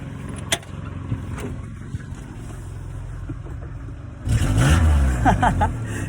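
A 1990 Ford Ranger engine idles low and steady, then gives one short, loud rev near the end before settling back, heard up close outdoors.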